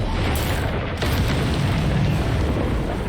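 Confringo spell blasts in Hogwarts Legacy erupt as a dense, loud rumbling boom that stays thick and sustained across the few seconds, alone with no talking.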